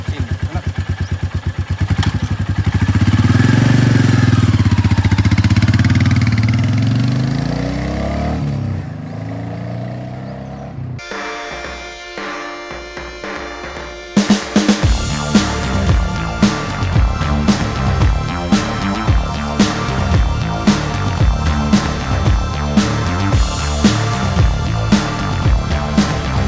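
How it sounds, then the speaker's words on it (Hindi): A Royal Enfield Meteor motorcycle is ridden, its exhaust rumbling loudly and unevenly as it passes through wind and road noise, then giving way to a clattering, thumping stretch. "आप लोगों को एक आइडिया हो जाएगा एग्जॉस्ट साउंड का रनिंग वाले में सीन"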